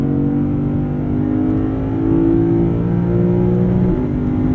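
A 2023 Lexus IS 500 V8 revving high in manual mode, a loud, sustained, smooth engine drone held steady with a slight swell in pitch and a small shift near the end.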